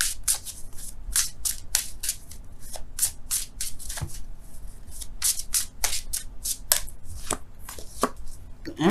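Tarot cards being shuffled and drawn by hand, with a fast run of crisp, close riffling snaps and rustles, briefly pausing before the shuffling resumes.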